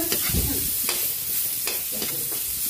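Ginger and garlic sizzle and fry in a pot for a stuffed milkfish pork soup, with a few scrapes of stirring over the constant close hiss.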